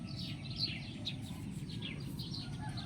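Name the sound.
birds chirping near the house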